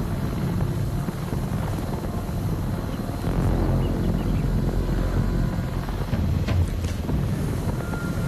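Helicopter rotor noise from the VR zombie game Arizona Sunshine 2: a steady, loud low thumping drone with windy rumble, continuous throughout, no voices.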